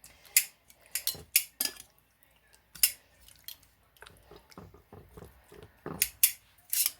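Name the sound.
batter being mixed in a bowl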